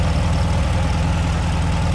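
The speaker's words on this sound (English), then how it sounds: "Smooth running engine in here. Of course, air cooled VW engine." An air-cooled VW engine idles in the rear engine bay of a 1984 MG TD Duchess replica roadster, a steady, even low chugging putter heard up close with no talking.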